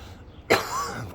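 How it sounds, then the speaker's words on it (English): A single sharp cough bursts out close by after a quiet moment, followed by a brief raspy trailing breath. "of course, start coughing as soon as I start"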